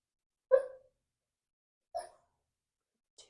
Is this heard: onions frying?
no